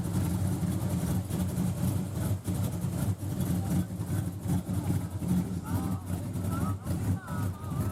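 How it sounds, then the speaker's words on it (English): A classic car with a 4-speed idles at a car show, a low, steady engine rumble running beneath nearby people talking throughout. "it's running. It's sitting here idling. Sounds pretty awesome."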